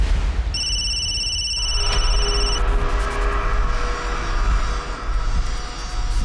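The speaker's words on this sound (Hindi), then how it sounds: "सर, खबरी का फोन आया था" A telephone rings with a bright electronic tone for about two seconds near the start, over a steady low rumble that continues after the ringing stops.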